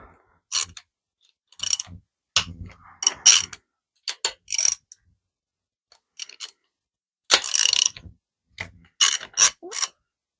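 A socket wrench ratchets in short, separate bursts of clicking and clattering while working on an Austin Mini engine's rocker shaft, close up and crisp, with quiet gaps between bursts.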